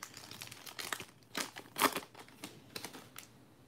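Foil packs of 2020 Topps Heritage Minor League Baseball cards crinkle and tear in quick close bursts, a louder rip near the middle among lighter rustling, with no talk.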